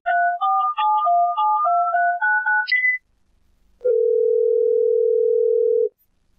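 A telephone line on a call-in religious program plays a quick run of electronic beeping notes, then after a short gap a steady dial tone holds for about two seconds before cutting off.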